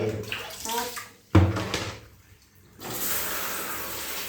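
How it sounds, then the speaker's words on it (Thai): Water splashes and runs, interrupted by a sharp knock, then a quiet pause before a steady stream of warm tap water flows again during a child's hair washing. "ตอนนี้น้ำหมดพ่อจะเติมน้ำก่อนนะ"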